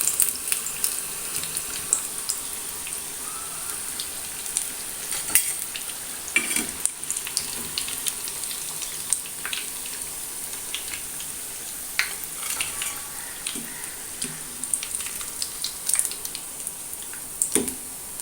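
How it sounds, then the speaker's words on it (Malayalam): Oil sizzles and crackles steadily as vegetable rolls deep-fry, with occasional louder pops and clinks, quiet and close, no voices. "അങ്ങനെ എല്ലാ റോളും നമുക്ക് വറുത്തെടുക്കാം"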